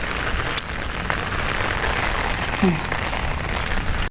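Light rain patters steadily on a surface, a soft continuous hiss with scattered drops, close and even throughout.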